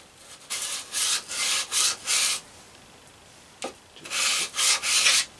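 Rust is scrubbed off a Faithfull No 4 hand plane in two bursts of rhythmic back-and-forth rasping strokes, close and clear, separated by a short pause.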